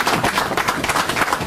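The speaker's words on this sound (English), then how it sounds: "A little round of applause." A live studio audience breaks into a round of applause, dense overlapping clapping sustained and fairly loud throughout the brief burst.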